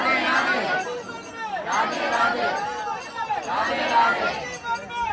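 A busy crowd at Nidhivan temple in Vrindavan murmurs and chatters all around, overlapping voices swelling and falling in waves, with faint clinks mixed into the steady hubbub.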